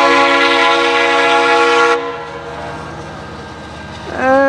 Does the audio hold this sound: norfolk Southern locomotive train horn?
yes